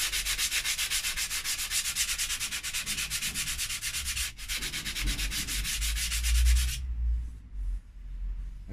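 Worn sandpaper rubs over the primer coat of a clock case in steady, rhythmic back-and-forth strokes, close and loud, then stops, leaving a quiet low rumble.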